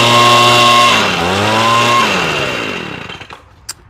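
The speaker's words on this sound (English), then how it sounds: "Sounds pretty good for an old blower." An old Echo leaf blower with a freshly rebuilt carburetor runs alone close by, its small two-stroke engine holding a steady buzzing whine that dips briefly and recovers, then fades away as a faint click ends it.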